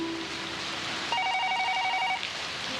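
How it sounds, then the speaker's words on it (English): A telephone rings with a steady electronic trill, loud and close, in a quiet room after a brief low tone. "answer the phone."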